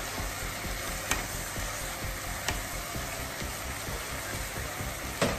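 Vegetables sizzle and fry steadily in a pan after a splash of broth, a dense continuous hiss with occasional stirring clicks from a utensil.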